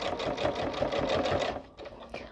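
A sewing machine runs a straight stitch on Christmas placemats, its needle hammering in a fast, steady rhythmic whir that stops abruptly near the end, followed by a couple of faint handling clicks.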